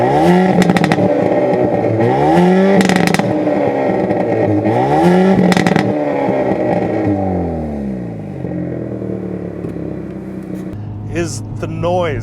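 A Hyundai Veloster N in N mode revs loudly several times, its exhaust rising and falling with crackle and pops in a close, aggressive burble, and a voice speaks over part of it.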